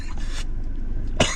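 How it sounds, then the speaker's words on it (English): A man coughs twice: a short throaty burst, a brief pause, then a sharper second cough, close and alone. "the quintessential cough that you probably remember from me"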